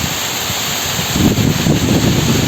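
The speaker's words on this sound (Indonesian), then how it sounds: "hujan alhamdulillah nih di sore hari ini Tasik diguyur hujan sahabat ya" Heavy rain pours down over the countryside of Tasik in the late afternoon, a broad steady rushing noise that swells slightly partway through, with no talking heard.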